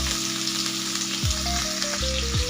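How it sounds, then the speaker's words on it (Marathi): Potato pieces fry in very hot oil for sabudana khichdi, a dense, even sizzle close by, with a low hum and a few faint scrapes underneath. "तेल कडकडीत गरम होऊन द्यायचं आणि बटाटा तेलामध्ये टाकून शिजेपर्यंत आपल्याला हा बटाटा तेलामध्ये ना परतून घ्यायचा आहे"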